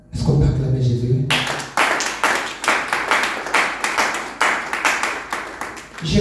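A church congregation at a French-language service claps in a brisk, steady rhythm, loud and close, with voices mixed in.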